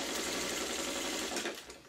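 A sewing machine stitches a quilt block in a steady, fast, close mechanical whir that runs continuously before slowing and stopping near the end.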